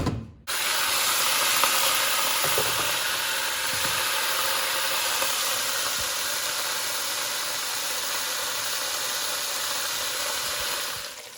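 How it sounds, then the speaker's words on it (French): Meat drops into hot oil and sears with a sudden loud hiss that settles into a steady, dense sizzle lasting the whole time, with faint scraping underneath. "je vais mettre ma viande dans mon huile qui est devenue chaude"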